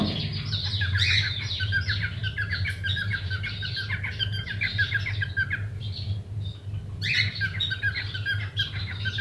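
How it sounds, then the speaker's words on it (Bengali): A male bird in an aviary of cockatiels, Java sparrows, Gouldian finches and society finches calls to court a female, giving steady, busy chirping and squawking bursts over a low constant hum, with a brief lull before resuming. "ও সাউন্ড করতেছে, শীষ দিতেছে ফিমেলটাকে আকর্ষণ করার জন্য"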